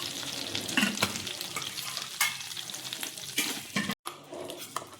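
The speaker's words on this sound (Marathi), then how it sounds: "याच तेलामध्ये थोडंसं तेल ॲड करू आणि मसाला छान परतून घेऊ।" Masala paste sizzles and fries in hot oil in a pan for a hotel-style mushroom curry while a spoon stirs it, producing a steady close crackle with scraping strokes.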